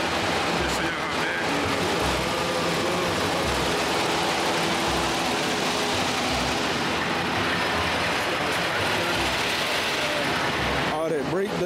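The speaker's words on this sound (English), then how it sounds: "I don't know if y'all can hear me because I'm out here by the engine" A 2023 Freightliner Cascadia truck engine runs close by at a truck wash, giving a dense, constant rumble with faint rhythmic low pulses and a voice talking over it.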